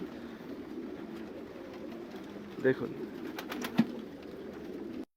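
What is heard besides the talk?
pigeons cooing in a pigeon farm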